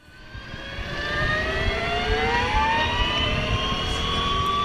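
A LiveWire electric motorcycle gives off a rising, turbine-like whine, several pitched tones climbing steadily as it accelerates, loud and close over a rushing background.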